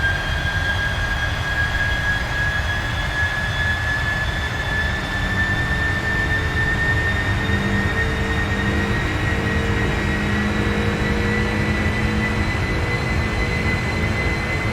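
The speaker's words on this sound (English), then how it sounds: "this is the 748. This is my big jet." Steady, unbroken roar of Boeing 747-8 jet engines in a flight simulator game, a constant loud drone with a faint rising whine running through it, no voices.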